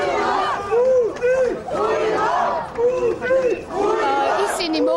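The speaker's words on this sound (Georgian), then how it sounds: "ამ წუთებში შეძახილები ისმის სასტუმრო რედისონთან" Protesters outside the Radisson hotel shout in loud, repeated rising chants, a dense crowd of voices swelling and dipping together with chatter between the cries.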